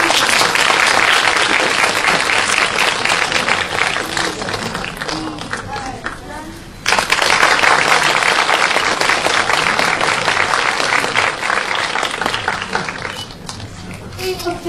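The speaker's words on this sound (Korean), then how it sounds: "저희 박수 쳐주시면 같이" Sustained, loud applause from a Korean cinema audience at a CGV preview screening with a fan club. A brief dip comes midway before the clapping resumes, with talk over it.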